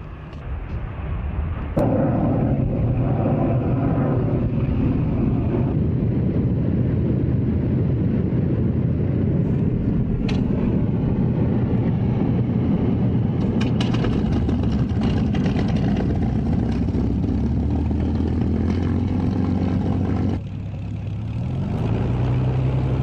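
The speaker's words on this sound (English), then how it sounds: "And now ready to prime the engine to start up." Fighter plane engine in IL-2 Cliffs of Dover turning over and catching, then running steadily at a loud, rumbling idle for about twenty seconds before the pitch shifts near the end.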